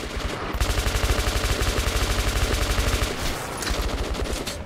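Sustained rapid machine-gun fire in the video game Metro 2033, loud, close and evenly paced, with one brief pause before the shooting resumes.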